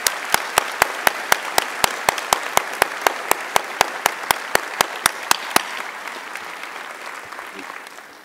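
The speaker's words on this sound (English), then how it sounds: "Another round of applause, please, for Mary Ellen Coe." Graduation ceremony audience applauding for an economics department speaker, a dense steady clapping that fills the space alongside a regular series of sharp clicks, then thins and fades out over the last couple of seconds.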